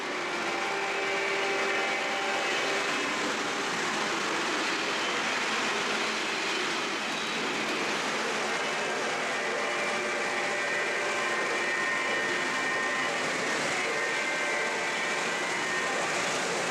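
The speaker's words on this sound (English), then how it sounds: "Matt, you're about to watch your car go flying down the rails." A model freight train car races fast along the rails, giving a steady, loud whirring rumble with rail noise that holds without a break from start to finish.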